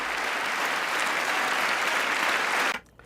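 Sustained, loud applause from an audience after a political speech on fundamental rights and the Equality Act, a dense clapping wash that cuts off sharply near the end, leaving a quiet room.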